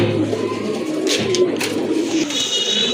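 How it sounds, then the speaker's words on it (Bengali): Fancy pigeons of the Aparajita breed cooing repeatedly at close range, soft low rolling coos over a steady background murmur. "আরেকটা পেয়ার কবুতর দেখতে পাচ্ছেন একেবারে রেয়ার কালেকশন অপরাজিতা কবুতর"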